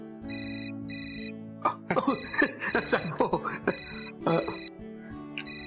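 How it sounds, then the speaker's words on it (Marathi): A phone ringtone rings in repeated electronic bursts with short gaps, steady and moderately loud, while someone speaks over it and someone clears his throat. "फोन वाजतोय. तुमचा वाजतोय?"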